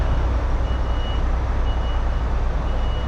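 Steady electronic reversing beeps from a truck at a motorway services lorry park, sounding close and continuous over a low engine rumble, with no talking.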